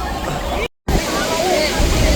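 Heavy, continuous roar of pouring water at Niagara Falls during a boat tour, dense spray noise with a brief dropout, then resuming loud and close while voices mingle faintly.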